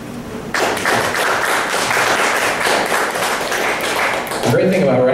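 An open mic poetry audience applauds a short poem, with clapping bursting in abruptly and holding dense and even for several seconds before a voice starts speaking at the end.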